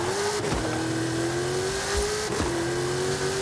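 A 1700-horsepower DeBerti Chevrolet roars in Forza Horizon 5, its engine droning loud and close at high revs, with two quick gear shifts that drop the pitch before it climbs again.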